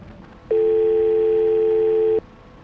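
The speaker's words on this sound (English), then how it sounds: "Subject is lured away by a brief phone call." In an office escape video game, a telephone call signal sounds as a single steady electronic tone lasting under two seconds, clear and fairly loud against a quiet background.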